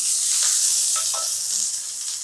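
Chopped onion fries in hot oil for a fish masala curry, giving a loud, continuous close-up sizzle with a few soft stirring scrapes mixed in and no talking.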